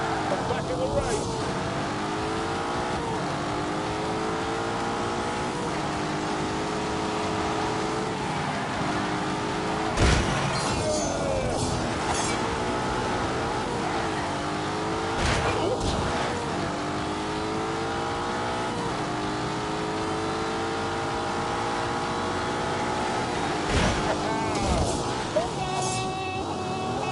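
Race car engines roar steadily in The Grand Tour video game on PS4, sustained revving with rising and falling pitch as gears shift, a few sharp bumps and passing whooshes, with a voice talking over it.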